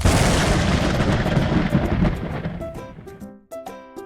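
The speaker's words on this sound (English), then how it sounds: "thunder rumbled by and boomed out very loud" A loud, deep rumble of thunder booms and rolls, fading over a few seconds before a second, shorter crack and rumble near the end.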